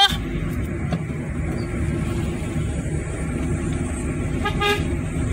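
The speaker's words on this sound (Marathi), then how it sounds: "हा आपल्या गाडीचा हॉर्न आहे" A brief car horn toot near the end cuts through a steady low engine and road rumble.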